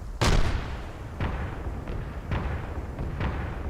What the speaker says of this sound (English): I saw a big explosion